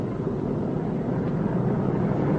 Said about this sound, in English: After you're cleared for takeoff, turn the plane the rest of the way around so that it points down the runway.